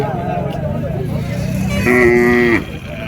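A cow at a native cattle market in Matrapalli gives one loud, close moo lasting under a second, while people talk nearby and traffic hums in the background.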